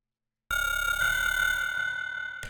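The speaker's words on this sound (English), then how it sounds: "A bit of echo." A witch house synth patch with a little crunch and echo starts abruptly after a short silence, holding a steady bright tone with a gently wavering lower line and echoing tail, alone without any voice.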